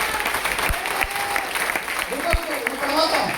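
An audience at a business seminar applauds softly and continuously, a thin patter of hands running under a man's ongoing speech.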